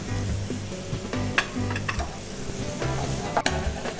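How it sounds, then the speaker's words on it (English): Green curry paste sizzles steadily in a pan as coconut milk goes in, with continuous frying hiss and occasional stirring scrapes and a sharp tap. "Then we add our coconut milk. Not too much at the beginning."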